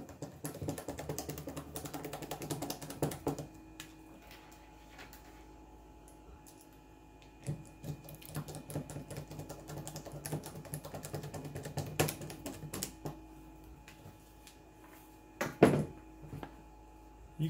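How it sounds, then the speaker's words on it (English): Small clicks and taps of a screw being driven back into a hoverboard body, repeated irregularly with sharper knocks near the end, close by and fairly quiet against light background noise. "And then put the screw back in."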